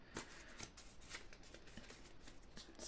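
Soft, quick riffling and sliding of tarot cards from a 78-card deck being shuffled and drawn, a series of light papery flicks, close and quiet with no talking.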